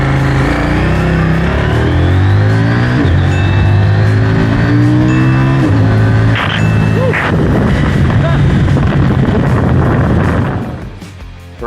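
A CFMOTO 800NK middleweight naked motorcycle accelerates hard from a standstill, its engine revving up steadily through the gears in a loud, continuous roar with rising and falling pitch, recorded close with constant wind noise.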